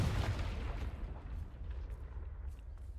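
Confringo blasting spell explosion in Hogwarts Legacy, a loud booming blast with a rumbling low-end tail that fades slowly over a few seconds, with no talk.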